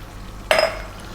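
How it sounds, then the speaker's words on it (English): Water poured into a hot pan of frying potatoes and tomatoes for an Indian-style chicken dish, a sudden loud hiss and splutter that decays over about half a second against quiet kitchen background. "Now I'm going to add a bit of water."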